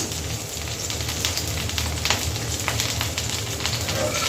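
Kakrol (spiny gourd) fries in oil in an open wok with a loud, dense, continuous sizzle and crackle, close and steady throughout.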